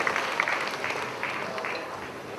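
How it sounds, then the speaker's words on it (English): A crowd at a real estate awards ceremony applauds the winners, an even, moderately quiet patter of many hands clapping that holds steady throughout. "Can we please give them a big round of applause"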